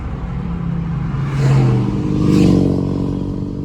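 A Jeep Wrangler drives along the road after a wheel alignment, its engine rising and falling through two gentle accelerations over steady road and tyre noise, close and fairly loud, with no talking.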